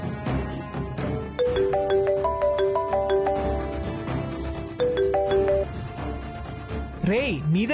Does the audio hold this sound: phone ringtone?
yes